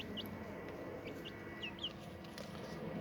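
Chicks cluck softly and intermittently against a steady background hum, with a few short, high chirps scattered through.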